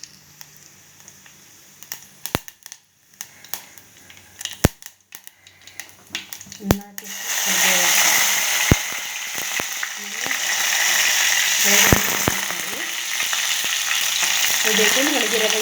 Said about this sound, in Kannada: ಈಗ ಇದಕ್ಕೆ ನಾನು ಒಂದೆರಡು ಸ್ಪೂನಷ್ಟು ಆಯಿಲ್ ಹಾಕಿದ್ದೀನಿ ಒಗ್ಗರಣೆಗೆ, ಮತ್ತು ಸಾಸಿವೆ